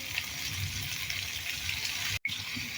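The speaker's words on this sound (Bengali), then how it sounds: "তো দেখো ঝোলের পানিটা দিয়ে দিলাম।" Water poured into a pan of fish curry made with kharsula fish, a steady, even pouring rush with no talk, broken by a brief cut near the end.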